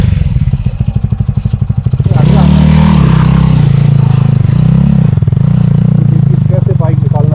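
A heavily loaded motorbike labors over a rocky mountain road on the Kailash Mansarovar route, its engine thudding then surging into a loud, strained drone with clattering stones, close and continuous.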